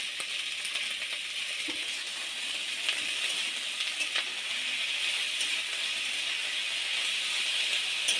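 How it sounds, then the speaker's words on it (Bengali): Sliced snake gourd sizzles in hot mustard oil in a home kitchen, giving a steady, soft frying hiss with faint crackles throughout and no voices. "তেলটা গরম হয়ে গেছে, আর কেটে রাখা চিচিঙ্গাগুলো আমি দিয়ে দেবো।"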